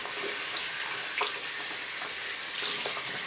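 Steady running water from a faucet as hair extensions are rinsed in a sink, a continuous close hiss with faint splashes and shifts in the stream.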